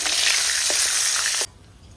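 Pieces of tilapia fish frying in hot oil in a pan produce a loud, close, steady hiss and crackle, with a couple of soft clinks from handling, before the sizzle stops abruptly into near silence.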